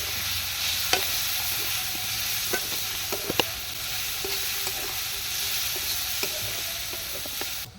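Chicken sizzles in a pan with salt, cumin, turmeric and coriander powder, giving a steady close frying hiss broken by occasional sharp clicks and scrapes as it is stirred.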